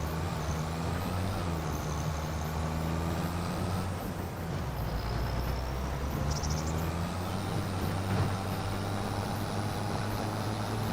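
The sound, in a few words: tractor engine running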